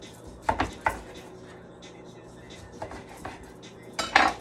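Citrus slices, including grapefruit and blood orange, are dropped into a cooking pot, producing a few light clinks and knocks against metal with quieter handling in between.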